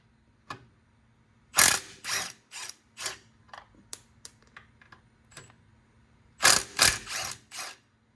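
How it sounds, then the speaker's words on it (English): Ratchet wrench loosening 13mm factory bolts on a RZR winch bumper, in several bursts of quick clicking and a few single clicks, close and clear against a quiet background. "we're going to take these 4 bolts loose here. They're 13mm bolts,"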